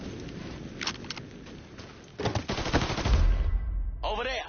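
Automatic gunfire bursts in Mafia 3 during a shootout, with scattered shots early, then a denser, louder stretch of continuous firing and a low rumble toward the end.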